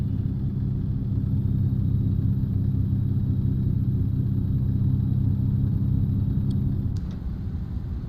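Steady low engine rumble from an International LoneStar truck in American Truck Simulator, droning evenly close up and dropping slightly near the end, with no talk.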